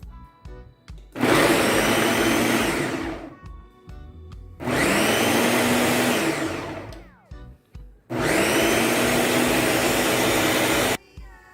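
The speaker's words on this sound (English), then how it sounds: "We're gonna blend it until it's nice and smooth." A blender runs in three loud bursts of a few seconds each, whirring and grinding a peanut mixture for Jamaican peanut porridge, with short quiet pauses between them.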